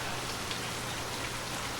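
Steady rain falls in a dense, even hiss that stays at one level throughout, with no other sounds.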